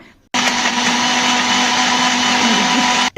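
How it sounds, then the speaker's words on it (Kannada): A kitchen mixer grinder blends a banana smoothie with a loud, steady whirring roar that starts abruptly after a brief quiet moment and cuts off near the end. "ಈಗ ನೋಡಿ ಇದನ್ನು ಮಿಕ್ಸರ್ ಹಾಕಿ ಈ ರೀತಿ ರುಬ್ಕೊಳ್ಳೋಣ"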